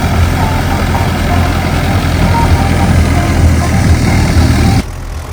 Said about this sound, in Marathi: अशा प्रकारे आपण रोटर घालायचं काम चालू आहे